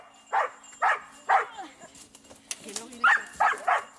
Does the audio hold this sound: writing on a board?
no